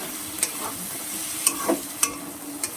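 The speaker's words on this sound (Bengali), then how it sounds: "চিংড়ি মাছগুলোর সাথে পুরো আলুগুলো দিয়ে দিলাম, চিংড়ি মাছগুলো নামিয়ে দিলাম কড়ার মধ্যে" Prawns and potatoes fry in a kadai with a steady close sizzle, broken by several sharp ticks and scrapes of a spatula stirring the pan.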